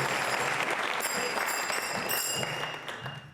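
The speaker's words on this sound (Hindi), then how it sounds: "तालियां जोरों से बजाइए एक बार फिर" An audience at a quiz show on Sanatan Dharma claps in a dense, continuous roar of applause that holds steady, then tapers off toward the end.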